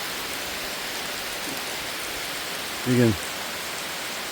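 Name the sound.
rain falling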